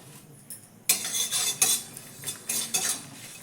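Whole coriander seeds are stirred in a pan with a utensil for a pickle recipe, producing several short scraping clinks and rattles at close range, with no talking.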